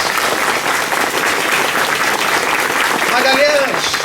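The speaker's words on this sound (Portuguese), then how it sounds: "uma salva de palmas por vocês" An audience at a Catholic mass breaks into sustained, full applause that stays strong throughout, and a voice rises over the clapping near the end.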